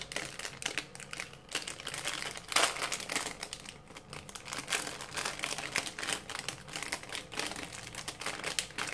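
A plastic Rilakkuma bag crinkles and rustles as it is opened by hand. The handling is close and continuous, with dense crackling throughout and one sharper crunch partway through.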